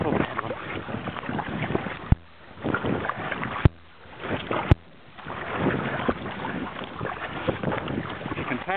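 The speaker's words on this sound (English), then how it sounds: "Beautiful paddling, beautiful paddling." K1 kayak paddling on open water, continuous rushing splash and wash with gusty wind buffeting the microphone, punctuated by a few sharp knocks.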